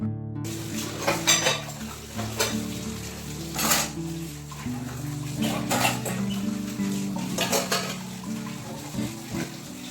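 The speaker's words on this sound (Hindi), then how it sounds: "तो थोड़े बहुत बर्तन निकल जाते हैं। तो इन्हें भी मैं हाथों हाथ धुल देती हूँ।" Dishes, glasses and pans being washed by hand in a home kitchen, with repeated clinks and clatters of utensils over running water, close and moderately loud throughout.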